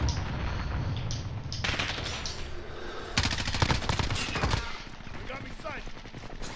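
Rapid bursts of automatic gunfire crackle in a shooter video game, with dense rattling volleys through the middle and players talking over the shots.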